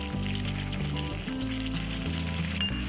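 Tomato, soya and red chilli sauces bubble with soya chunks in a frying pan for soya chilli, a soft continuous sizzle beneath strong, steady low tones.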